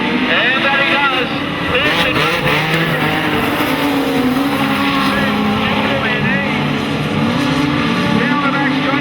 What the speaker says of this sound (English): Restart time. The revs start to rise.